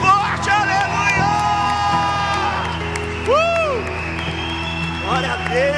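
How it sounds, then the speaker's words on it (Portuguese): A church congregation claps and cheers during a lively worship service, scattered applause and whoops mixed under sustained music and a speaking voice throughout. "Só você que está de pé, dê um aplauso a Ele bem forte"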